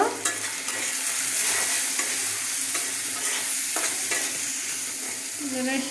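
Salt, turmeric and chili powder stir-fried in a pan for a dish of broiler chicken liver and mixed vegetables, giving a loud, continuous close sizzle with repeated scraping of the spoon.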